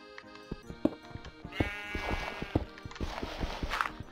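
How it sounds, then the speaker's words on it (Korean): Sheep bleat in the Minecraft video game, several short wavering calls repeating over a busy backdrop of game music and footstep-like clops, fairly close and clear. "염소 양소리도 나고"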